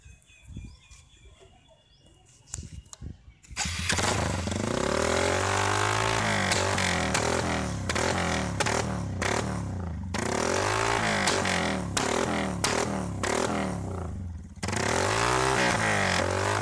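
A motorbike engine revved hard to force exhaust backfire shots, starting after a quiet, birdy opening and then staying loud and continuous with rising and falling rev sweeps and sharp crack-like bursts, close to the microphone.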